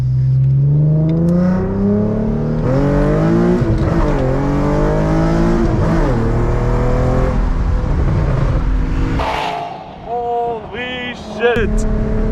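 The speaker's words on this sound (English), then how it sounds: "Dude's doing donuts, dude." A car does donuts nearby, its engine revving hard with rising and falling whine over tire noise, heard from inside a tuned Infiniti G37 sedan on a backroad, with someone talking loudly over it.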